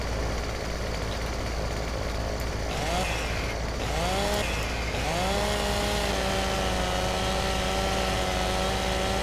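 Chainsaw in Farming Simulator 2015 cutting through wood, a steady loud buzzing drone whose pitch dips and rises as the blade bites, then settles into a sustained high whine, with no talking.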